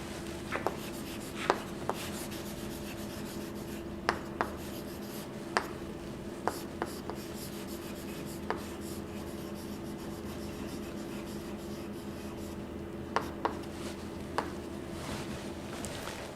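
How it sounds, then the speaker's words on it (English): Chalk or marker scratches across a classroom board in short, scattered strokes and taps, faint and close, over a quiet room hum with no talking. "I will write his name."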